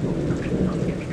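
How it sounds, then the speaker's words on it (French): A thunderstorm over the Brioude mining basin, with dense, steady rain and a low rolling rumble of thunder filling a short, loud stretch. "Avec ce bel orage qui a débuté dans le bassin minier à Brioude."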